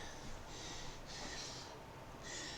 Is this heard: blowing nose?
yes